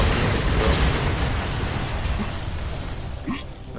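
Cannon fire and explosions in the shooter game Tower of Guns, a dense, loud barrage of booms and bursts that stays continuous before thinning slightly near the end.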